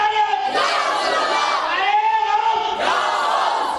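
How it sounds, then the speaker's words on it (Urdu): A large gathering at a Sufi religious gathering shouts slogans in unison, loud chanted bursts rising and falling in three or four swells, with a lull between them. "کمزور نعرے نہیں لگانا، لگائے تو ایسا لگانا، دمدار لگانا۔"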